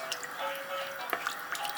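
A spoon stirs flour into chicken broth for soup, giving soft, close, quiet liquid swishes and small drip-like splashes with a few faint clinks, and no talking.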